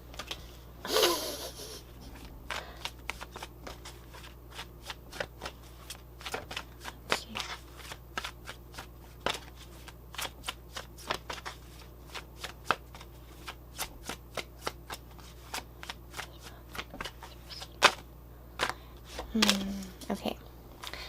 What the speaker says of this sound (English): I'm making you guys watch me live shuffle.